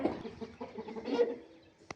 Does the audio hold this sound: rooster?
yes